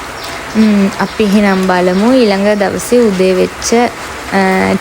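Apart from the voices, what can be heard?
rain falling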